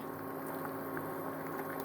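Beans in tomato sauce simmering in a pan, a steady soft bubbling and hissing texture, faint and continuous with no voices.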